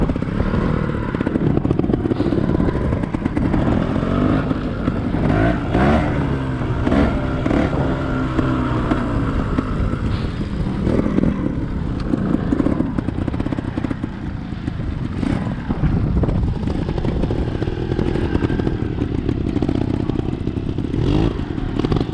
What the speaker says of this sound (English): we're making Anthony do some slow wheelies here